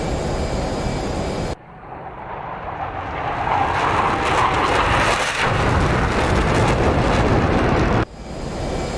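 A jet aircraft climbing on afterburner in DCS World 2.7, a loud broad roar that swells and holds for several seconds before cutting off abruptly, with no talking.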